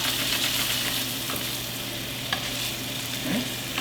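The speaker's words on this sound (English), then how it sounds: "as we flip our sausage, we're starting to see some browning happen" Sausages sizzle steadily in a hot pan while being flipped, a continuous close, loud frying hiss with faint scrapes and clinks of utensils.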